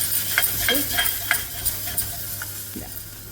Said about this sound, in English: Now when you fried your chutney,